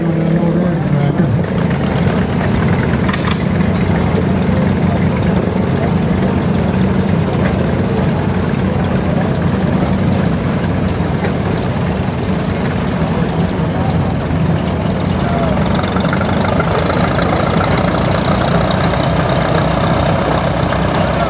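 Old Caterpillar Thirty crawler tractor crawls past close by, its engine a loud, steady low rumble that runs unbroken throughout, with voices faintly mixed underneath.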